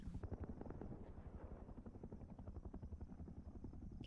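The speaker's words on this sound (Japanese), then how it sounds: "結構パトロールヘリも粘るね。" Patrol helicopter flying in the video game Rust, its rotor chopping in a fast, steady pulse with a constant engine drone, fairly loud and continuous with no talking.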